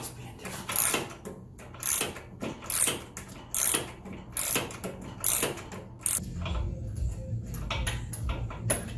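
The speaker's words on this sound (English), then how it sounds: "this must be the ratchet's being different." Hand ratchet clicks in quick repeated strokes while spark plugs are loosened on a Toro Grandstand 36-inch mower, close and crisp in several short bursts, then softer handling noises.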